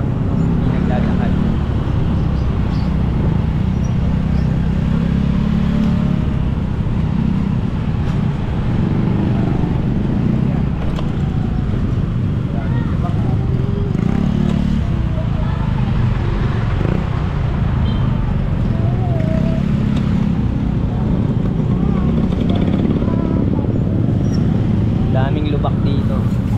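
Steady road traffic rumbles around a moving e-bike on a rough, pothole-filled road, with heavy trucks passing close by; loud continuous engine and tire noise fills the whole stretch, with a voice talking over it.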